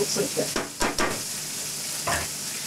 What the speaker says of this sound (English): Crumble the tofu